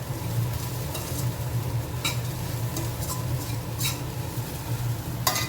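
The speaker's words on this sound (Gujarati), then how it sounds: "અહીંયા રોટલી પણ કાઢીને રાખી છે, એટલે રોટલી પણ વઘારી દઈશું" Leftover roti stir-fried in a mustard-seed tempering in a pan, with a steady close sizzle under repeated scraping and stirring strokes and a few light metal clinks.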